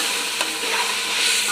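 Chopped onion with ginger garlic paste sizzles in hot oil in a pan for paneer biryani, a steady close hiss with faint stirring scrapes and no voices.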